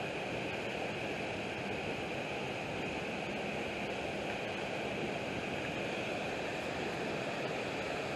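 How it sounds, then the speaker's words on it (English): Otaga Creek in Alabama runs fast, deep and swollen after storms, giving off a continuous broadband roar of rushing water that holds steady and loud throughout, with no voices. "Otaga Creek is flowing so fast and deep,"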